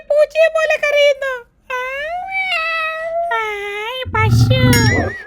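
A cartoon donkey gives a drawn-out, wavering cat meow in a children's animated show, a voice imitating a cat. Several long mewing cries rise and fall in a series, close and clear, with no other talk.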